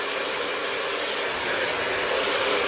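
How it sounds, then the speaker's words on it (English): A hairdryer blows steadily and close while hair is brushed and styled, a continuous airy whoosh with a slight rise in loudness toward the end. "bringing the hairdryer over the top of the head"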